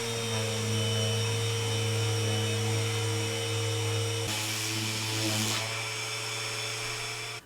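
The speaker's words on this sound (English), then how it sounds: "what I'm going to do first, is sand it and get the sides flat" Power sander working the flat sides of a wooden knife block, a steady loud droning hum with a brief harsher burst of contact midway before cutting off at the end.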